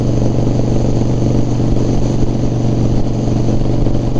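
A Harley FXR motorcycle engine runs continuously while riding, a loud, close, steady rumbling drone with a throbbing low-end pulse and no talk over it.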